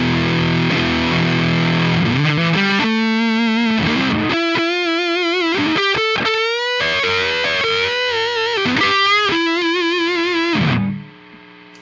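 An electric guitar with a bridge humbucker plays through heavy distortion and effects, sustained overdriven notes with vibrato bends and chords ringing loud and close for several seconds before cutting off abruptly, with no one talking.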